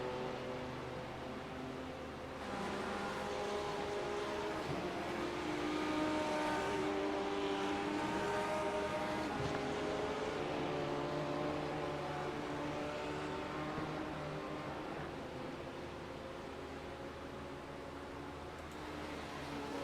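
A GT3 race car screams around the Monza circuit at full throttle, its engine note steady and sustained throughout, with a slight swell in the middle as it pushes hard.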